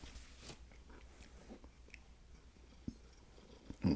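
Biting and chewing on a Hardee's burger and fries up close, soft moist mastication with a few sharper crunchy bites, the loudest near the end.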